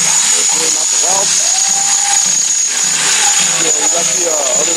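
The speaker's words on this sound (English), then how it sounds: "Drilling out the welds." Power drill boring out spot welds on a truck body in a shop, a steady high-pitched whine that runs continuously at full level alongside a constant bed of workshop noise.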